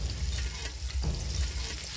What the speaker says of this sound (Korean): 기름이 저렇게 자작자작하면 조심해야 됩니다.